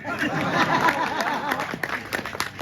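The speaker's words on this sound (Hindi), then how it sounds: "जोरदार तालियों से स्वागत करें।" A crowd at an all-India Hindi poetry recital in Sumawali applauds, with clapping mixed with faint murmuring and chatter that thins toward the end.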